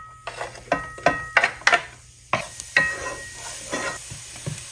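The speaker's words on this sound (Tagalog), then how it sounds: "Gamit lang ako ng coconut oil, bawang, or garlic." Garlic sizzling in coconut oil in a pan, with repeated stirring strokes and utensil scrapes against the pan over a steady background hiss.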